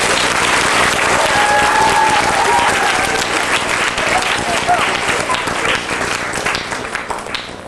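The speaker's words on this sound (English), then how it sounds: "So can you please give him a warm round of applause?" A large audience gives a warm, sustained round of applause, loud and dense throughout with crowd voices and cheers mixed in, tapering slightly toward the end.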